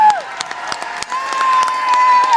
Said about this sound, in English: Let's have a round of applause for all our great winners.